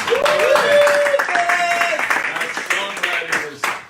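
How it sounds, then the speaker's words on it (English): A piano bar audience claps for performer Phyllis Pastore, a steady patter of applause rising beneath sustained tones and nearby voices talking over it. "How about a round of applause for Phyllis Pastore?"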